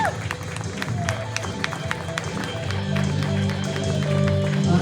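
A church crowd at a testimony gathering claps in a dense patter of hands that grows steadier and fuller, with talk mixed in over the clapping.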